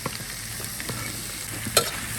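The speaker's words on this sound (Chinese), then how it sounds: "猪舌下锅了啊" Pig tongue stir-frying in a wok, a steady close sizzle broken by a few light scrapes and a sharp metallic clink near the end, with no talking.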